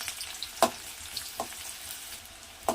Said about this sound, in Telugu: ఆనియన్ వేసి ఇవి గోల్డెన్ బ్రౌన్ కలర్ వచ్చేంత వరకు వేయించుకోవాలండి